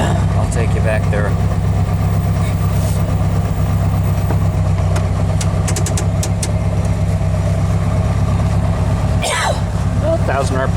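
Steady, loud idle of a 1776 single port engine, a low continuous throb running throughout, with a brief dip and rattle near the end and someone talking over it.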